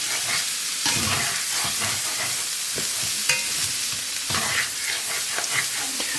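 Minced vegetables for a ragu alla Bolognese sizzle and fry in a pot while being stirred, a steady loud hiss broken by scraping stirring strokes throughout, with no talking.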